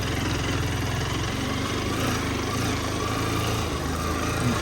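A motorbike engine runs with a steady, continuous chugging drone, close and even throughout.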